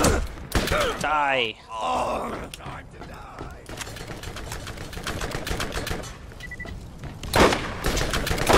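Gunfire and grenade blasts from the Borderlands video game: bursts of shots and thuds mixed with a character's groan and shouted game dialogue, with a player talking over the action.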